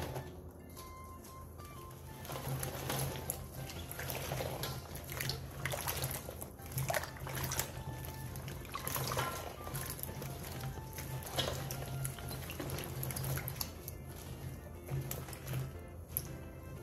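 A pickled chili mixture with garlic and ginger is moved into a storage container, giving soft, intermittent wet squishes, slaps and liquid trickles at close range with no talking.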